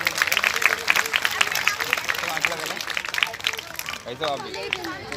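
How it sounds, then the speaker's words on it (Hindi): Scattered applause from the audience at a political gathering, a rapid run of hand claps that thins out quickly while someone speaks over it through a public address system. "ताली बजना चाहिए"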